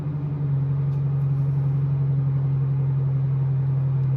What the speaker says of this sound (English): That's my brother's car. I was waiting for a day when that would happen. He has a fancy white sports car.